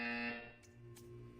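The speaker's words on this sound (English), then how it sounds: "You will hear a buzzer." A buzzer from the video game Portal 2 sounds as a steady tonal electronic drone that fades after a moment, followed by two faint short bursts, with no talking.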